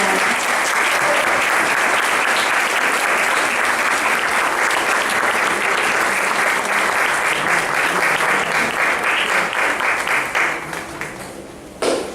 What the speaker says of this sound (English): Clap for these fabulous people.